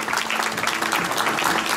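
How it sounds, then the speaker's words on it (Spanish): A crowd of guests at a quinceañera party applauds steadily, a dense and continuous patter of clapping that fills the room without a break. "Y usted se merece estas palmas, amigo Mario Cabrel,"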